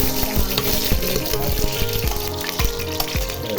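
Whole spices (cinnamon, cardamom and cloves) fry in a pan as the base for biryani, giving a steady, close sizzle with faint stirring scrapes throughout, with no voices.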